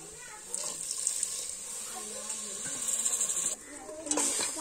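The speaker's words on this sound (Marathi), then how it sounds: "आता थोडस 1 चमचाभर पाणी टाकून घेऊ" A spoonful of water goes into mutton frying over a wood-fired stove, giving a steady watery hiss and trickle that swells and fades, with faint clinks near the end.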